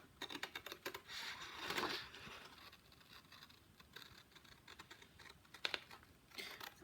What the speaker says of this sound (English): I don't cut all the way to the end of the scissors so that it's clipping.